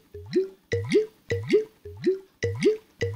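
Soap bubbles in a panda video game, heard as a regular series of six cartoonish rising plop sounds, evenly spaced and close, with no talk.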